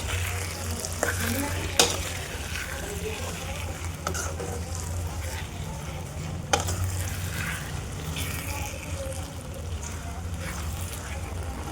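A spoon scrapes and stirs through thick mango chutney with tempering in a pan, with sizzling underneath and a few sharp clinks against the pan's edge.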